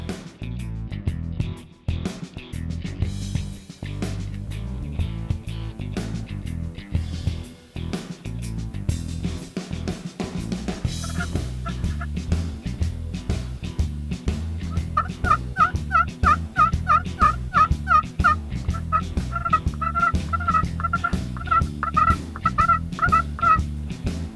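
A wild turkey gobbler with hens in an open Oklahoma field, gobbling in faint, distant bursts over a steady low rumble of background noise, with no voices.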